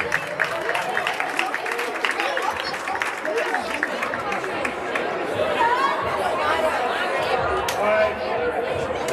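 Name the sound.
audience applause at a sports award ceremony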